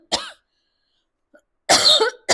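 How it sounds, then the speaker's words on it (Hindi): A woman coughs close to the microphone: one short cough, a pause, then a harsher longer cough followed by a quick final one, during a math lesson. "सॉरी, खांसी आ रही है थोड़ी।"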